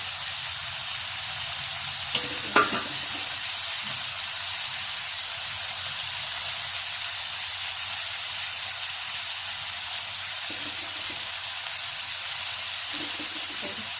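Curry leaves sauté in a pan with tomato for Bombay chutney, giving a steady close sizzling hiss throughout with a couple of brief clicks early on.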